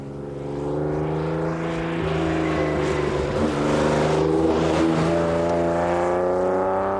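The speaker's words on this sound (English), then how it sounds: "All Astons have got a lovely exhaust note." An Aston Martin sports car's exhaust drones steadily and loudly, with a deep, rich note that swells and shifts slightly as the engine revs, heard alone without talk.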